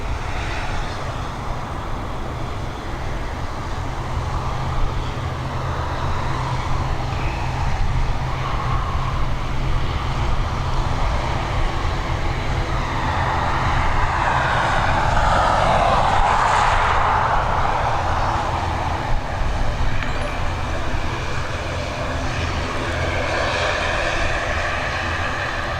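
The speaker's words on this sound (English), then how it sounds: "We've got an ATR 72-600 series on departure next." An ATR 72-600 turboprop airliner departing Dublin Airport gives a steady, sustained engine roar with a broad rumble that swells to a peak about two-thirds through, heard from a distance with no voices.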